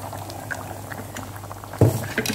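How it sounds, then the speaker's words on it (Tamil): Ground coconut and fennel paste poured into simmering goat bone broth, a soft bubbling simmer that gives way to a sudden louder splash and pour near the end. "நம்ம இந்த அரைச்சி வச்சுருக்கோம் இல்லைங்களா, தேங்காய் சோம்பு பொட்டுக்கல்ல இதையும் வந்து இதில் ஊற்றிடலாம்"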